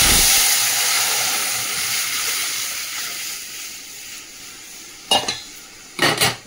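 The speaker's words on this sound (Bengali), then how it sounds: "ফোড়নটা ভাজা হয়ে গেছে, এবারে ডালটা দিয়ে দিই।" Cooked dal hits hot oil tempered with mustard seeds and dried red chilies, a loud hissing sizzle that slowly fades, followed by two short utensil clatters near the end, close up, with no speech.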